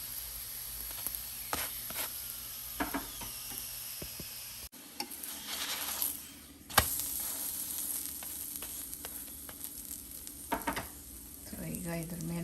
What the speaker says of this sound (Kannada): ಚೆನ್ನಾಗಿ ಈ ಥರ ಗೋಲ್ಡನ್ ಕಲರ್ ಬರೋ ತನಕ ಅದನ್ನು ಫ್ರೈ ಮಾಡ್ಕೊಬೇಕು